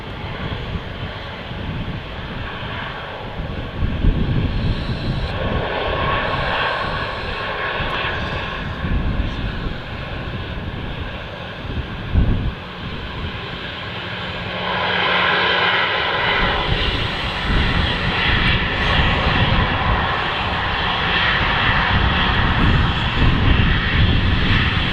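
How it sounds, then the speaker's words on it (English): An Airbus A320 jet airliner passes at Manchester Airport, its engines producing a loud, sustained roar that swells and rumbles over the whole stretch, with no voices. "Speaking of A320, another one."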